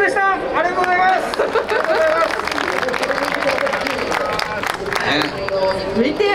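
Audience clapping at a motorsport team managers' talk show at an outdoor event plaza booth, a steady wash of applause and crowd chatter running throughout with clearer claps near the start.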